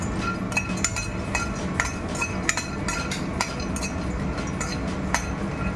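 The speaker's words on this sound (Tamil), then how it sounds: "பிஸ்தா பருப்பு வறுத்துக்கலாம்." Pistachios roasting in a pan, giving steady light clinks and scrapes of nuts being stirred against metal, close and continuous with no talking.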